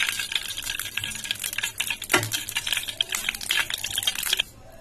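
Cashews and raisins sizzling in hot ghee for Boondi laddu, a steady crackling fry with scraping stirs and a few metallic pan knocks throughout, stopping abruptly near the end.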